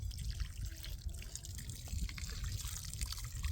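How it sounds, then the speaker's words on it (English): Water splashes and trickles onto newly potted aloe vera pups outdoors, a faint, close, continuous pouring with soft drips. "I just need to water them in."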